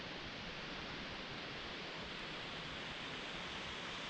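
Waterfall tumbling down a cliff near the Wolf River, heard as a steady, broadband hiss of falling water that stays even and unbroken throughout.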